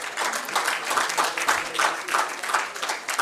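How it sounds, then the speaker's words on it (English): An audience at a national conference on AI governance applauds a panel, a moderate patter of many hands clapping in uneven pulses for a few seconds. "please give a huge round of applause to the panel"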